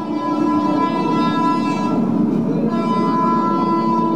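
A train passes close by in a steady loud rumble of wheels on rail, with a sustained horn-like tone running through the whole stretch.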